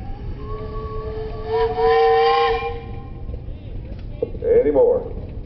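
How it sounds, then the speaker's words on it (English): A steam engine whistle blows loudly for about a second at a steam threshers' parade, a breathy hissing tone rising over background chatter, with people talking before and after. "You got a whistle up there."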